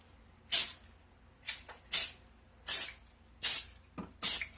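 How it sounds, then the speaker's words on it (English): Six short bursts of cooking spray hiss into a muffin tin, irregularly spaced, close and fairly loud against a quiet background. "I'm going to just spray the bottom of it"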